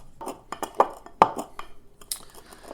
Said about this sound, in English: so I'm going to muddle in the glass.